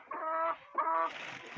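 Hens clucking up close while warm eggs are gathered from beneath them in winter: two short, throaty clucks in quick succession, fairly quiet, with no talking.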